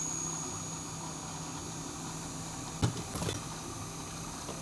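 A Hyundai Avante AD alternator from a scrapyard, converted into a brushless motor and spinning with no load: a faint, steady high-pitched whine with a constant hum, broken by a couple of brief clicks and knocks.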